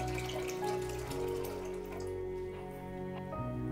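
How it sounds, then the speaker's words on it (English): Cold water poured from a tap into a cooking pot, a continuous gurgling rush with a pitch that shifts as the pot fills, steady and close throughout with no talking. "Now, take a pot and add some cold water."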